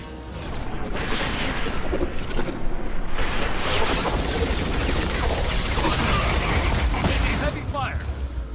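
Rapid, heavy gunfire in the Halo video game, with dense crackling shots and mechanical clatter running almost continuously at close range, with a voice talking over it.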